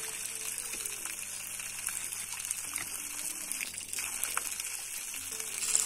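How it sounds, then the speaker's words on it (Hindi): Cold water runs and trickles steadily at close range, a soft continuous gush with slight splashy variation. "यहाँ पे ठंडा ठंडा पानी यहीं से आता है"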